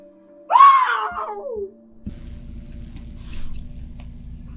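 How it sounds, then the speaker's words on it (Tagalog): A chilling scream rises from a forest, one loud drawn-out wailing cry that falls away after about a second, followed by a low rumbling ambience. "Bago pa man makapagsalita si Sofia narinig nila ang nakapangingilabot na sigaw mula sa gubat"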